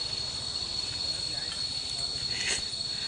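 Crickets chirp in a steady, continuous high drone in a forest on a mountain hike near Atimonan, Quezon, fairly close and unbroken throughout.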